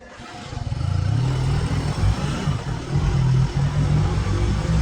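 A vehicle's engine runs and revs in a low mid-pitched drone as it pulls away, the sound rising and falling steadily over several seconds, with no talking.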